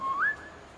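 A single short whistle in the video game Beasts of Maravilla Island, a clear tone that slides upward and then holds, heard alone.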